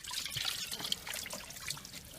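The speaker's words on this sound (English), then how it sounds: "So this is how you drain. So after I spin it, I'm going to drain my clothes. Drain the spin tub." Water drains from the spin tub of a portable twin-tub washing machine, a steady close trickle and splash that runs continuously without talking.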